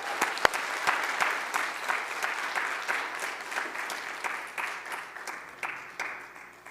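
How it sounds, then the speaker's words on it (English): Sustained applause from an audience at a Shabbat service, a dense, steady wash of many hands clapping that continues throughout without pause. "How about one more round of applause?"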